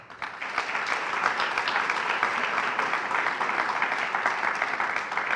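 An audience claps at a university State of the University address, a dense, steady wash of applause sustained throughout without a break.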